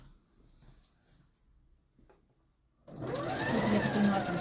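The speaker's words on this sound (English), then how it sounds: "So I'm just sewing a centre back seam." Sewing machine stitching a centre back seam in stretch velvet, running steadily with a fast close buzzing whir after some quiet handling noises.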